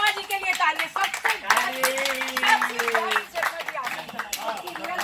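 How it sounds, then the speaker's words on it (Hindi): An audience claps steadily for several seconds at a lively Hindi music gathering, the dense applause mixed with a voice talking and singing over it. "शर्मा जी के लिए ताली सबसे"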